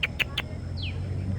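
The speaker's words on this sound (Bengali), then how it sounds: "আমার বাড়ির মুরগিগুলা" Household chickens heard close by, with a few short clucks at the start followed by a brief higher call over a low steady background hum.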